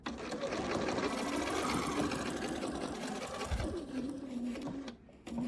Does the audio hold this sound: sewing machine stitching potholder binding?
yes